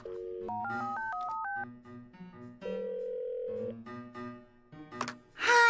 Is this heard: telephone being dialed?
yes